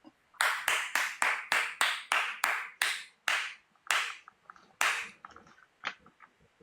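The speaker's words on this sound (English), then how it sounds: "That deserved a round of applause" Crisp hand claps close to the microphone, about a dozen evenly spaced loud claps that slow and fade into a few softer, scattered ones.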